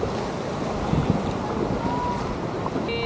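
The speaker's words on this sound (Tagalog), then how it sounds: "Lakas ng agos." A strong water current rushes steadily near a black-sand shore, forming a continuous, fairly loud broadband flow with wind buffeting the microphone and no voices.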